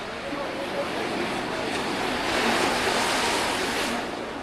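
Sea surf breaks right beside the Bhadkeshwar Mahadev temple on the shore, a steady broad wash of waves with gusty wind noise, rising slightly toward the middle and heard without talk.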